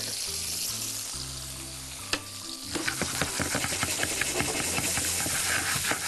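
Chicken frying and sizzling in a pan on the stove, with a steady hiss beneath scattered crackles and spatters; a low hum fills the first couple of seconds before the sizzle grows busier and louder.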